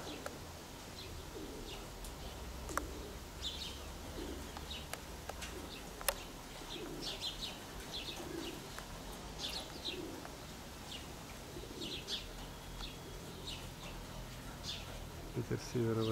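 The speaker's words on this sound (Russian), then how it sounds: "В основном старые голуби." Old pigeons drifting in flight during a hawk-prone outing give soft, repeated coos and a few chirps, faint and spread across a steady outdoor background, with light insect buzzing and no talk.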